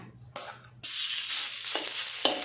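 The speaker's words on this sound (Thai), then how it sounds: "ใส่เครื่องแกงไปผัดให้หอม ๆ เลยค่ะ" A sharp sizzle bursts out as Thai curry paste hits a hot pan, then a steady frying hiss continues with occasional scraping stirs.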